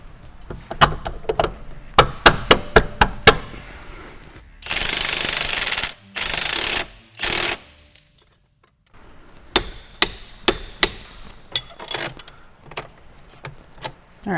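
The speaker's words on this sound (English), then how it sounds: "we're going to get this bolt reinstalled here on the bottom" An impact wrench or air tool working a bolt on the lower suspension of a C8 Corvette Z06 during a lowering-spring install, with rattling bursts of rapid hammering and a few longer sustained runs, loud and close in a garage.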